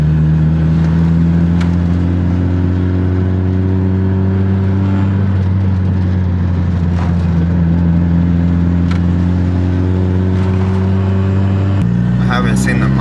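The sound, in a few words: Honda Civic EJ1 engine on test drive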